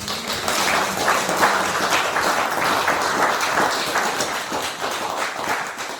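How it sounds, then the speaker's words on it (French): A concert audience in Montréal applauds for the farmers, dense steady clapping filling the hall at moderate level, continuous for the whole stretch without a break. "Je vous demande de les applaudir encore une fois."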